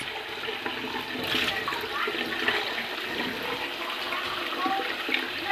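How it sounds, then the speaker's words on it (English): Water runs steadily from a Kangen water machine tap as a glass is filled, a continuous hissing flow of moderate loudness throughout with no talk over it. "Switch this over to the Kangen water. Okay, and I'll turn her on. Just let it run for a minute, and I'll pour a glass."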